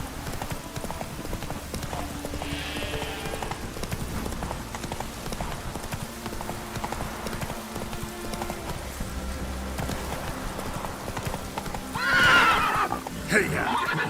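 Roach, the horse in Witcher 3, gallops with a steady clip-clop of hooves, then gives a loud, close whinny near the end.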